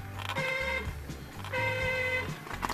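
Two strained car horn blasts from a faulty Nissan Versa horn, each starting rough and catching as if choking, with a low rumble between them.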